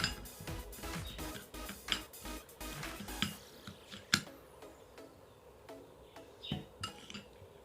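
Sugar and sweet almond oil being mixed in a small container with a spoon for a skin scrub: quick steady scraping and clinking strokes for about three seconds, then sparser taps and scrapes, close and fairly quiet.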